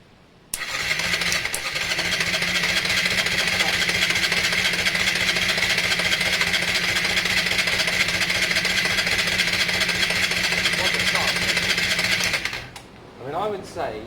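A Honda Varadero 125 motorcycle cranks briefly and catches, then settles into a steady, close, even idle that runs for about twelve seconds before the engine cuts. Faint voices follow.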